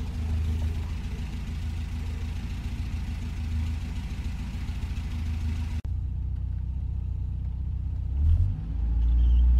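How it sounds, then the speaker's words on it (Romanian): A Skoda car engine runs at a steady idle while warming up during cooling-system bleeding, a continuous low rumble throughout, with a brief cut near the middle and a rise in revs toward the end. "Aștept ca motorul să se încălzească."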